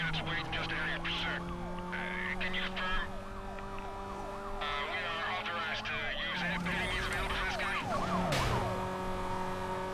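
A police car siren wails up and down steadily during a chase in Need for Speed: Most Wanted, over engine hum and other game noises, continuing throughout at moderate loudness.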